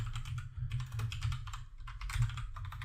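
Rapid clicking of keys on a computer keyboard during a quick Google search, steady close typing bursts over a low background hum, with no speech.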